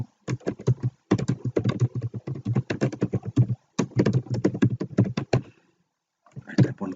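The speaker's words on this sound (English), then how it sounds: "I type one question." Fast bursts of clicking keystrokes on a computer keyboard while a quiz question is entered into an online form, coming in rapid runs with short pauses, close and fairly loud.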